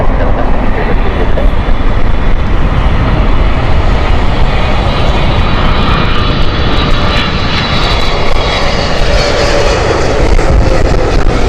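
A British Airways Boeing 777 arriving from Los Angeles roars in to land at Heathrow, its jet engines a loud, sustained broadband rumble that fills the whole stretch without letting up.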